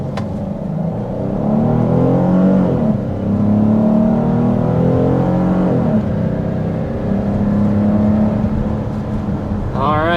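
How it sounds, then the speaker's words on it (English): A 2025 Kia Carnival minivan with a V6 engine accelerating hard to about 60 mph, a steady loud engine roar rising in pitch through several gear shifts, heard from inside the cabin without talking. "that was an acceleration up to about 60 miles an hour with this Carnival"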